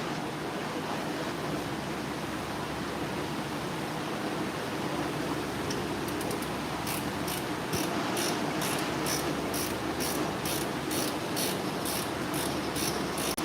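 A hand ratchet turning on a truck's brake job, rapid regular clicking strokes starting midway and repeating steadily, close and fairly loud over a constant noisy outdoor hiss.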